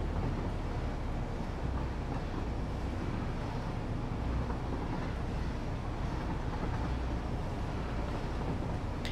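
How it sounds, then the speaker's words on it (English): Steady rolling rumble of a train ride in the video game Satisfactory, with constant low-pitched rail and wind-like noise holding at an even level throughout, with no voices. "This is one of the reasons why I like trains."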